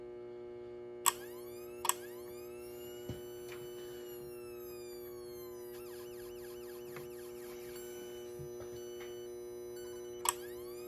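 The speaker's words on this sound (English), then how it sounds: "100 watt siren sound test compared to the reduced test." A 100 watt siren tested on a cluttered shop table sounds as a steady, faint electronic tone with layered harmonics, broken by a few sharp clicks and switching pops.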